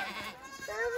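A baby goat on a ranch gives a short, high, wavering bleat followed by a second rising cry, close and clear, with no speech.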